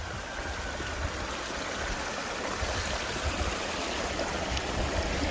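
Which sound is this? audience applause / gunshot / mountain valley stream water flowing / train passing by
mountain valley stream water flowing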